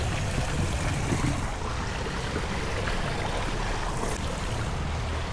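Fresh water flows near a hotel swimming pool, a constant close rushing wash that stays even and fairly loud with no break.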